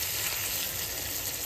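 Steady, close sizzling of koi fish frying in a pan with oil at home, a continuous bright hiss with no talk.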